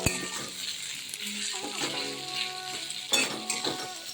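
Potato pieces frying in oil in a pan for a fasting-day potato dish, a steady soft sizzle broken by a few clinks of a spoon and utensils against the pan.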